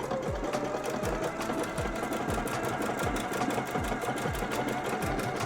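A sewing machine runs a wavy stitch through a quilt top layered on fleece, making a close, rapid, even run of mechanical stitch pulses with a whirring motor hum underneath. No one talks.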